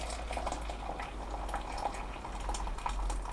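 Hot water is poured into a screw-top brewing tub for a Pilsner kit, giving a steady, soft splashing and trickling wash with a low background hum, fairly quiet and continuous.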